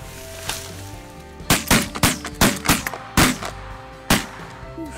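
A goose hunt in Saskatchewan with a volley of shotgun blasts, about eight loud sharp reports fired in quick succession by several shooters, then one last shot a moment later.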